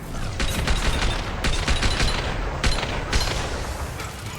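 Heavy, sustained gunfire in Mass Effect 2, dense overlapping rifle shots and impacts close by, with repeated sharp cracks forming a continuous firefight.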